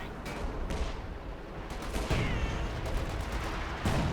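Artillery and gunfire from a 2v2 Company of Heroes 2 match, a rolling fusillade of repeated booms and cracks at moderate loudness, with several sharper blasts punctuating a dense battle din.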